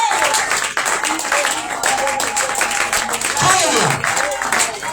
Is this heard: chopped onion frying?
no